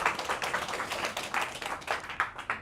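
Applause during an interview, a smaller group clapping with distinct individual hand claps audible in an uneven rhythm, close and fairly loud, no speech over it.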